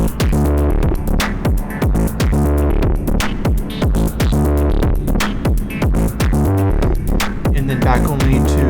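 A loud, dense music passage processed with treble-softened soft clipping from the Clip Softly plugin, its steady thumping beats and sustained tones compressed into a thick, saturated wall of sound.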